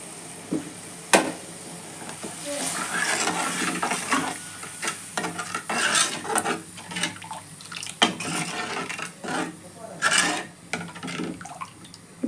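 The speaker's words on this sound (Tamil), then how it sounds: "இப்போ இது நல்லா கொதிக்கிட்டோம்." Egg gravy bubbles and sizzles in a pan close by, with intermittent stirring, scraping and light clinks of a utensil against metal.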